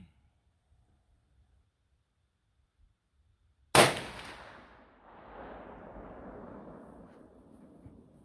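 A single ULR 454 Casull rifle shot cracks out at an outdoor range after a stretch of near silence, loud and sharp, then trails off into a long rolling echo.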